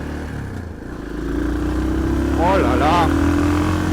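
A motorcycle accelerates out of a roundabout, its engine rising in a steady drone that swells louder toward the end, while a rider speaks briefly over it.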